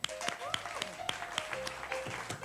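An adult audience at a live comedy show snaps fingers and claps in scattered sharp bursts, with crisp individual snaps standing out over a murmur of voices.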